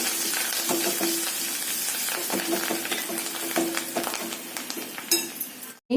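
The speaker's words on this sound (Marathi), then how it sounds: "फोडणी खमंग परतून घ्यायचं" Spice tempering of coriander, turmeric and asafoetida in oil sizzles steadily while a utensil stirs and clinks against the pan in repeated taps, loud and close, ending abruptly.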